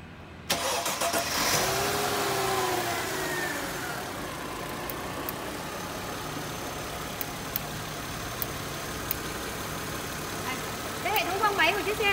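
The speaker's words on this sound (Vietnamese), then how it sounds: "Máy nổ rất là êm ái rồi" A 2004 Mercedes E240 engine cranks and catches, then settles into a steady, smooth idle heard up close, with a voice talking over it at the start.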